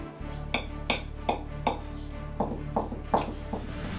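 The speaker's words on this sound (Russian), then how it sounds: "Перемешиваем начинку." A utensil scrapes and taps against a bowl while cheese filling for a lavash pie is mixed, making about ten evenly spaced metallic clinks over a low steady hum.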